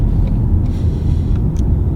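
Cabin sound of a 2019 Citroen C5 Aircross with a 1.5 litre 130 PS engine while driving on the road, a steady low engine and road rumble with faint ticks above it and no talking.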